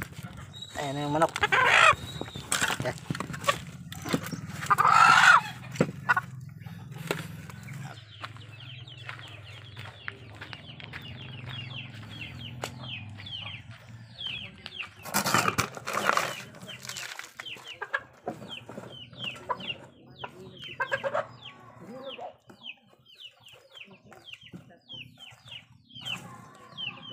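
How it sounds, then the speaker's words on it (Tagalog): Chickens cluck and call near a person in a yard, with intermittent bursts of fowl sounds between quieter stretches, and a voice calling to the birds now and then. "Ayan na yung manok."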